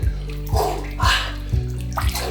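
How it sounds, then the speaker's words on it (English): Water in an ice-filled tub holding about 40 pounds of ice is swished around by hand in a rhythmic pattern, five regular sloshing pulses about half a second apart, close and fairly loud with a steady low hum underneath. "So I'm moving the top water around."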